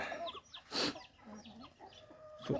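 Backyard chickens, mostly hens, cluck softly in a coop, with scattered short clucks and murmurs throughout and one louder squawk near the start, at a modest distance with no talk.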